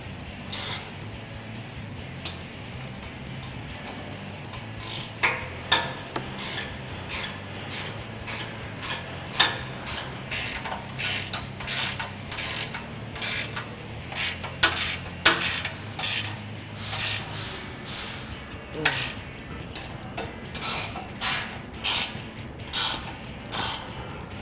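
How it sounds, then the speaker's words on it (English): A 16mm wrench ratcheting on bull bar bracket bolts on a 2018 Jeep Wrangler JL, a long run of quick, sharp metallic clicks in uneven bursts, close and fairly quiet, with no talking. "we're gonna use a 16mm wrench and adjust the bull bar up nice and straight, and then we'll tighten up our stud and our bolt"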